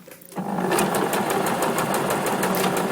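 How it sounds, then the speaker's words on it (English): A sewing machine hems stretch fabric with a twin needle, running steadily and loudly with a fast, even stitching rhythm after a brief quiet start. "As I sew, I'm going to lightly stretch my project so that there's plenty of give in my stitching"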